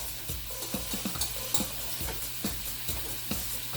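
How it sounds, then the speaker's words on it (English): Lean ground beef browning in a pot, stirred with a steady run of close scraping strokes over a low, continuous sizzle. "And there's how that is browning up in the pot"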